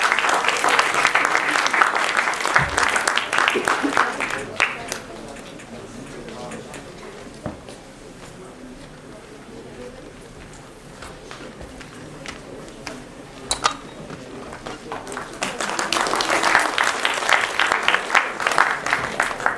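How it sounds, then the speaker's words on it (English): Conference audience at a gathering on Indian soft power breaks into full, dense applause, which thins to scattered claps while people talk in the room, then swells again into strong applause at the end. "Again, a big round of applause."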